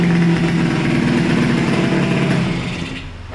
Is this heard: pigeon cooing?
no